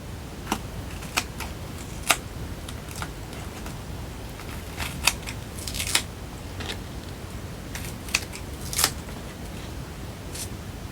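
Scissors snipping paper while a photo album page is being made, a series of sharp, short, close-up clicks and snips scattered irregularly over a quiet background.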